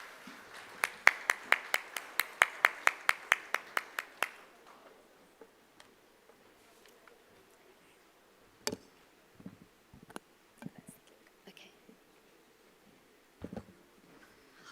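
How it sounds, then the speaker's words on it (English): Evenly spaced, sharp claps ring out for about four seconds at a summit evening event, then give way to a few scattered knocks and bumps in a quiet room. "I'd like you to give a warm, warm round of applause to Ms. Bobbin"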